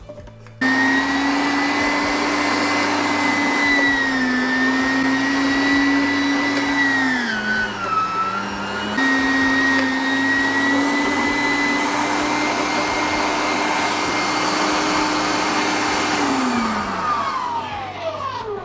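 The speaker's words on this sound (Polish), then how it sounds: "ja teraz odetnę korzonki i po prostu wrzucę je do maszynki" Electric meat grinder grinds parsley roots with a loud, steady motor whine that dips briefly as it bogs under the load, then recovers and runs continuously before winding down at the end.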